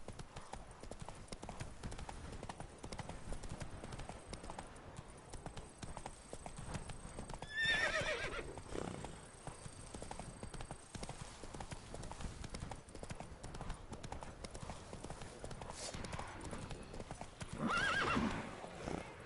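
Roach the horse in The Witcher 3 trots with steady clip-clopping hooves and lets out two whinnies, moderately close, over quiet game ambience.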